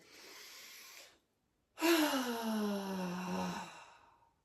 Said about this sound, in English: just take a deep breath in